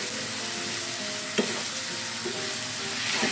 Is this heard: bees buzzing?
no